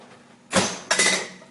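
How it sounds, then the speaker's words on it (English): Metal Yorkshire pudding baking tins pulled from an oven, giving two quick close clanks and scrapes about a third of a second apart. "And then out come the tins."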